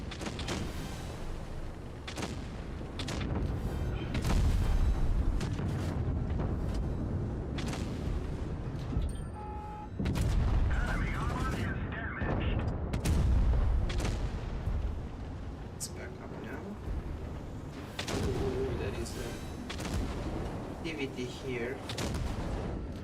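Video game gunfire aimed at an air panzer, a dense, continuous barrage of booming shots and blasts, loud and close, with a voice speaking briefly.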